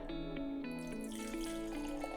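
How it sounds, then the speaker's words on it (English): Moroccan tea poured from a glass back into the pot, a soft continuous trickle of liquid heard faintly and close up. "The next step is we're going to pour this tea back into the pot."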